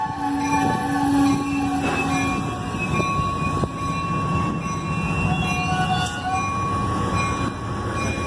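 Amtrak Heartland Flyer passenger train running by with steady rumbling wheel and rail noise throughout, a locomotive horn tone sounding early on, with no voices.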